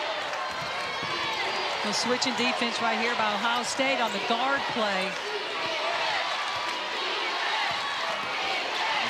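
A women's college basketball arena crowd at an NCAA tournament game, a steady roar of cheering and noise beneath a commentator's voice, with squeaking sneakers and bouncing ball audible throughout.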